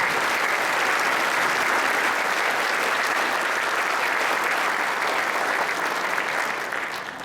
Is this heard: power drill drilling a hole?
no